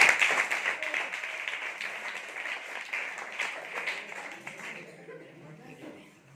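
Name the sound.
class applause for a correct quiz answer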